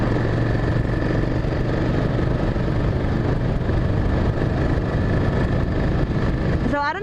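A Suzuki S40 Boulevard single-cylinder motorcycle cruising at highway speed in fourth gear, its top gear, gives a constant loud droning engine note with a vibrating thump, mixed with wind rush and no break throughout.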